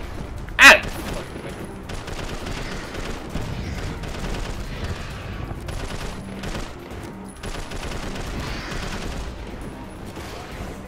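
Rapid gunfire rattles in Prototype 2 as shots are fired at a tree, one sharp loud crack followed by sustained busy shooting and game noise.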